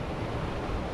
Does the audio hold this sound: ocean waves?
yes